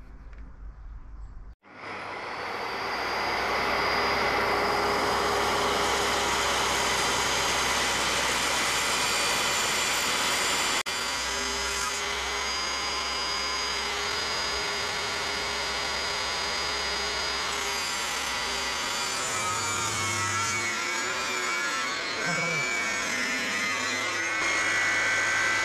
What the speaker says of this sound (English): How quickly that piece of oak flew out the back of the saw.